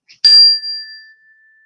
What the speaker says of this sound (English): I'm going to ring the chime again.